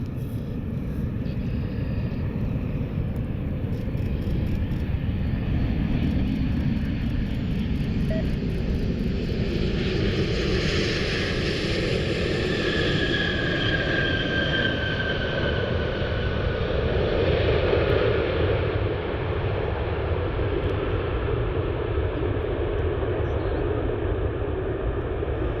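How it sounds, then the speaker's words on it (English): An Alaska Airlines jet diverted to Cleveland Hopkins airport makes a steady, broad engine roar that swells gently in the middle and then fades over about half a minute, heard at a distance with no talk. "we got another diversion inbound, Alaska 398, diverting out of Seattle"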